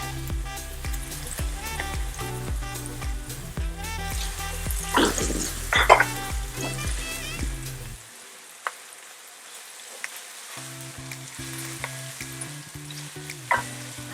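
Garlic sizzling in olive oil in a pan, a steady crackling fry with stirring and light clinks of a utensil, over faint background music that drops out briefly midway.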